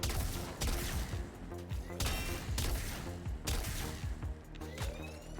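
Bursts of rapid gunfire from the video game Warframe come in repeated volleys roughly every second, loud and sharp with brief gaps between them.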